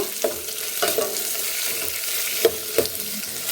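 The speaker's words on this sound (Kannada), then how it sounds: "ಈರುಳ್ಳಿ ಎಲ್ಲ ಸ್ವಲ್ಪ ಚೆನ್ನಾಗಿ ಫ್ರೈ ಫ್ರೈ ಆಗಬೇಕು" Sliced onions fry in a pan for a raw mango dal. A moderate sizzle runs throughout, broken by a few sharp clinks and scrapes of a spoon stirring.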